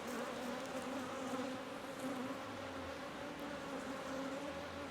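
Irritable honeybees at a queenless hive, a steady dense buzzing from many bees close by, continuous and even throughout with no talking.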